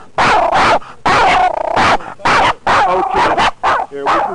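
Dog barking repeatedly in loud, close bursts at an outdoor classic car show hosted by the American Legion, with brief whimpering tones between the barks.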